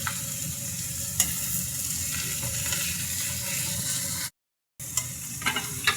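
Shrimp frying in oil for a malai curry, a dense close sizzle with a few utensil clicks, cut by a brief total silence before the crackle resumes.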